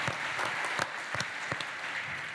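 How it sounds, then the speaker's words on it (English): Audience applause at a cystic fibrosis medical and research panel, a moderate patter of clapping from a seated crowd with a few sharper individual claps standing out. "I think we can clap"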